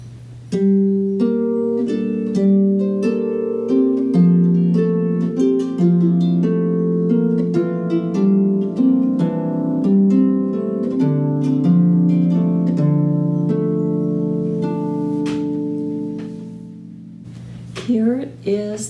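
A harp plays a tune with chords, plucked notes ringing over steady bass tones in an even, unhurried rhythm, close and clear with no talking, fading near the end.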